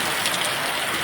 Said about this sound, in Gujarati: કાલ રાતનો એટલો વરસાદ પડે છે કે હદ વગરનો એટલો વરસાદ છે